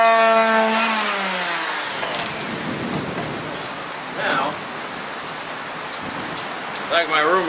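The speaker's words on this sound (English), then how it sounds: "you can really hear that rain pouring down" Heavy rain pours down in a steady dense hiss, with a few brief higher tonal sounds drifting through the wash.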